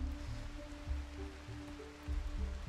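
Steady rain falls in the video game RimWorld, a soft, even hiss with a low rumble that holds for the whole stretch, with no voices over it.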